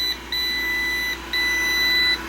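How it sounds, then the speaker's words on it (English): Quail egg incubator beeping as its temperature drops: two long, steady electronic tones, each sounding for nearly a second with a short gap between, clear and close over a faint hum. "they're starting to beep because of the temperature dropping"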